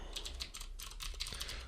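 Rapid keystrokes on a computer keyboard enter a command, a close, quiet burst of clicking taps in quick irregular succession.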